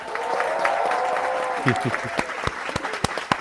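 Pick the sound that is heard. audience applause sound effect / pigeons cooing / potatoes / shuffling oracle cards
audience applause sound effect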